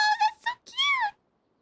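A gray and white cat in the video game Genshin Impact gives a few short, bright meows in quick succession, close and clear, then falls silent.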